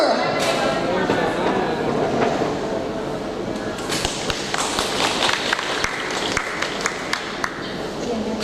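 Applause from an audience for a female performer at a Ramadan festival preaching contest and fashion show held at the Ambarawa Railway Museum, a dense steady patter of clapping lasting throughout with crowd noise and sharper claps standing out near the end.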